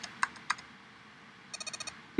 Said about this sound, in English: See, the keyboard.